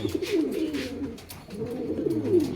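Pigeons, including bluebird and black check varieties, coo softly nearby, several low throaty rolling coos overlapping in loose succession, with faint rustling and wing sounds, no talk.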